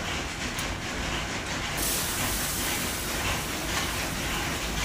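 Potatoes hit hot oil in a pan while cooking a fish curry, giving a dense, loud, continuous sizzle and hiss that holds steady throughout.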